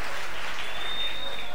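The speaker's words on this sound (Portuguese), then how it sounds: "Uma salva de palmas pra eles." An audience bursts into dense, loud applause at a live stand-up comedy show, sustained clapping filling the whole moment.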